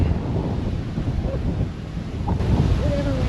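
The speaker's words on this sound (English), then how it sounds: "it's windy down here" Gusty wind blows across a lakeside at Lake Louise on the Bull River, a steady broadband rush buffeting the microphone with low rumbling throughout, loud and continuous, with no voices.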